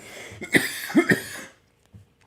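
A few sharp coughs in quick succession, close and fairly loud, followed by a brief quiet pause.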